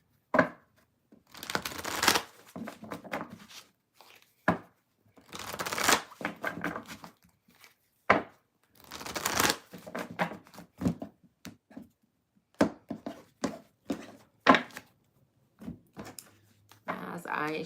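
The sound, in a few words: shuffling tarot cards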